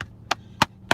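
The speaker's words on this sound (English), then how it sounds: "That's the heel of the hand." Three sharp, evenly spaced slaps of the heel of a hand drumming on a surface, each a hard, dry knock close to the listener with quiet gaps between.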